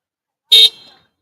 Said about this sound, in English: Look at that guy honking.